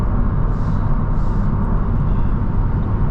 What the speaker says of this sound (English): And there is, as you can hear, quite a bit of wind noise.